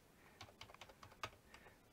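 Soft, close typing on a computer keyboard as an address is entered, a quick irregular run of light key clicks with one sharper tap and no talking.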